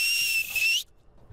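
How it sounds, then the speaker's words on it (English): A dog trainer's single sharp, sustained high whistle to call dogs back across a field, loud and close, lasting under a second and then cutting off to quiet. "As soon as I whistle,"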